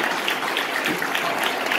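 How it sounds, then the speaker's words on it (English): Audience applause after the second speaker's talk at a media industry festival in Latin America, a steady dense patter of many hands clapping at moderate volume for a couple of seconds. "so round of applause for our second speaker of the day"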